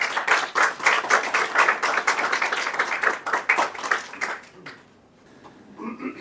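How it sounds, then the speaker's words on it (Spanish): An audience claps warmly at a talk welcoming a professor, a dense burst of many hands at close range that fades out after about four seconds, then a brief lull. "Quisiera que le diéramos un caluroso aplauso de bienvenida al profesor y académico y escritor"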